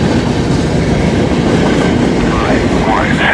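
A mixed manifest freight train rolls steadily past at close range on a night meet, with loud continuous wheel rumble, rhythmic clickety-clack over rail joints and faint squealing near the end.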